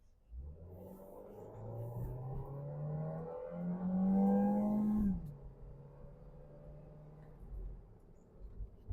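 A Honda Freed E automatic car accelerating along an empty road, its engine note rising steadily in pitch for about five seconds before easing off into a lower rumble, heard from inside the cabin with no talking.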